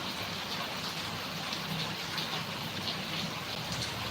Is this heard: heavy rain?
yes